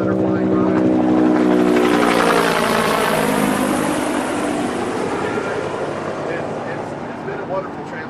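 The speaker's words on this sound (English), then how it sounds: "the helicopters that are flying by" Helicopters fly past over an outdoor news-conference site, a loud, broad rotor-and-engine roar with sweeping tones that peaks early and slowly fades as they move away.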